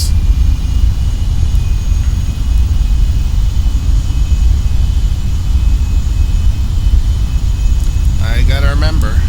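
Learjet jet engines in Flight Simulator X holding a steady, loud broadband roar as the throttle comes up, with a brief warbling tone near the end.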